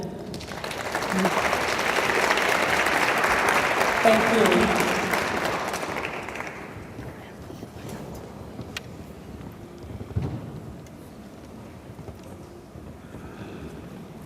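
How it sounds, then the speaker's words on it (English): Audience applause at a memorial celebration of life as women of the Deborah movement come forward, a broad wash of clapping for about six seconds that fades into quieter room noise with a brief spoken thanks. "The women of the Deborah movement, you all can clap as they come."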